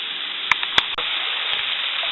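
Sausage browns in a cast iron skillet with a steady, close frying sizzle and a few sharp pops and crackles over the hiss.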